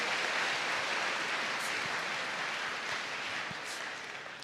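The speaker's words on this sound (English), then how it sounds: "a round of applause for our wonderful panelists" Audience applause for panelists at the close of a Baltimore discussion event, a dense, even hiss of many hands clapping that fades slightly toward the end, heard from a moderate distance.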